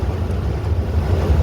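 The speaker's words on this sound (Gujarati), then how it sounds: "જો પવન બહુ ઉડે છે" Strong storm wind roars and buffets the microphone in a low, continuous rush, with no one talking.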